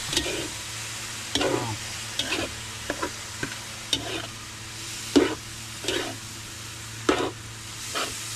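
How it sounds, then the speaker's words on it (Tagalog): Meat and pressed santol being stirred in coconut milk in a pan, a spoon scraping in repeated strokes about once a second over a steady low sizzle and hum, close and moderately loud with no talking. "Ating pong halo-haloin para po maglasa po lahat."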